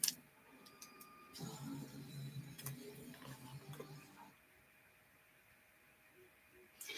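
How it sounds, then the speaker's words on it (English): A 3D printer hums and ticks faintly with soft mechanical whirring and intermittent clicks. A low murmur rises briefly partway through, then the printer continues alone at a low level. "I just wanted to pause the music to see if I could hear the 3D printer"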